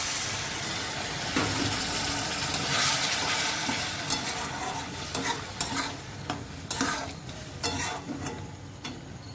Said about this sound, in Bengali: এবার একটু আমি জল দেবো।